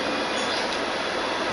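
Metro train running steadily, with broadband rolling rail noise and a constant roar throughout, close and fairly loud with no pauses.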